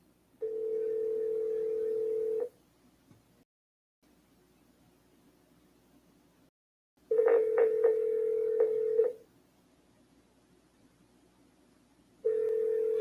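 Telephone tones on an outgoing cold call: a steady dial-type tone runs about two seconds, then a burst of keypad dialing beeps, then a renewed tone at the end, with quiet gaps between and no talking.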